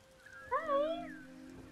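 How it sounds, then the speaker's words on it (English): A pet cat gives a single drawn-out meow, rising then falling, fairly close and alone over a quiet indoor background. "My other cat is really vocal, so he just meows a lot."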